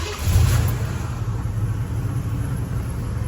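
A 1987 Oldsmobile Cutlass Supreme with its factory 307 engine and stock exhaust catches with a deep rumble, then settles into a smooth, steady low idle close by.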